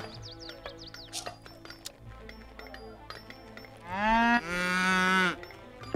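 A cow moos loudly and close, a long drawn-out bellow near the end that rises, holds and then fades, preceded by quieter farmyard clatter, clicks and faint chirping sounds.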